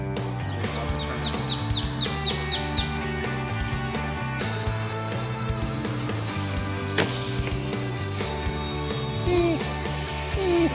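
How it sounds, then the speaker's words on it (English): A bird sings outdoors in short repeated chirping phrases near the start, set against a dense layered background of other tonal sounds at an archery course. "Listen to that bird."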